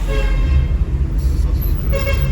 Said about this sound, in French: pourquoi tu klaxonnes?